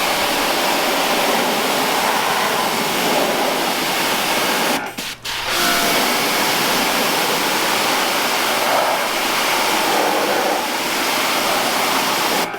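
Steady broadband hiss of water sprayed onto a car hood coated with hybrid ceramic wax, continuous and close for the whole stretch, with one brief break in the spray midway.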